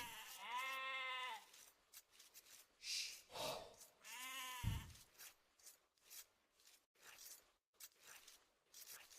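Sheep bleat repeatedly in a real-time strategy video game, with wavering cries alongside clicks and short interface effects, clear and close against quiet game ambience.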